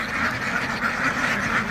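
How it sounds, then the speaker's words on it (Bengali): A flock of many ducks quacks continuously, overlapping nasal calls close by in a dense, steady chorus with no talking. "এখানে 850 হাঁস আছে।"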